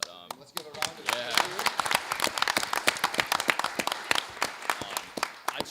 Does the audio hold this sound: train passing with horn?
no